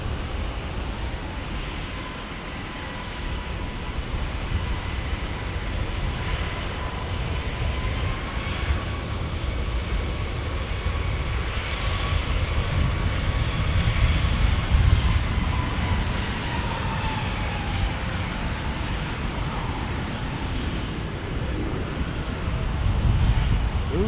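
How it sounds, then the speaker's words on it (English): A United Airlines Boeing 737 MAX jet passes at San Diego's single-runway airport, its engine roar building steadily over the full span with a slowly shifting whine, loud and continuous throughout. "This is a MAX from Denver for United Airlines."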